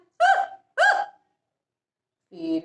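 A storyteller's voice imitates an elephant hiccuping, giving two sharp, loud hiccup gasps in quick succession, then a pause and a third voiced squeak.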